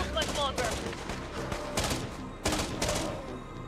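Gunfire from defenders of a French fortress in the survival strategy game Infection Free Zone: clusters of crisp shots and short machine-gun-like bursts, moderately distant, separated by brief pauses.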